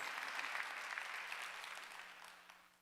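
Congregation applauding during a Wednesday church sermon, a full round of clapping that slowly fades away over a few seconds, with no talking on top.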